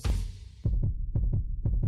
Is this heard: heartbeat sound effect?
yes